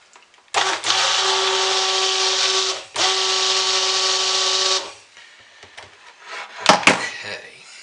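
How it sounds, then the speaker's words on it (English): A stick blender mixes lemon verbena poppy seed soap batter in a deep container, running in two loud, steady whirring bursts with a short pause between, followed by quieter handling clatter. "I may have to hit that with the stick blender just a little"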